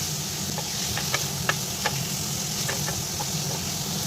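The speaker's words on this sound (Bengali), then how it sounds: "এটাকে হালকা ফ্রাই করতে বসিয়ে দিলাম" Marinated chicken frying lightly in mustard oil gives a steady close sizzle throughout, with a few soft scraping and clicking stir sounds scattered over it.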